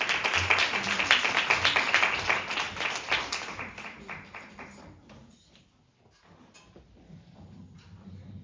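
An audience at a regional tourism-revival presentation contest applauds loudly, a dense burst of clapping that holds for a few seconds, then thins out and fades into a quiet room.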